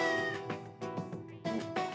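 Cat meows from the video game Shikigami no Shiro 2, several short bright calls in quick succession over steady game music, fairly close and clear, with no talking.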